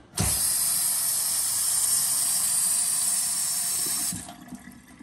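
Water runs steadily from a sink faucet fitted with a new aerator, a smooth close hiss that starts abruptly and flows for about four seconds before cutting off, heard alone.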